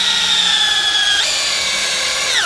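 A Dewalt DCD795 cordless drill runs loud and close for about two and a half seconds, its motor whine holding steady, stepping up in pitch partway through, then winding down at the end, with no voices.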